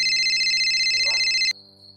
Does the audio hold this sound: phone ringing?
yes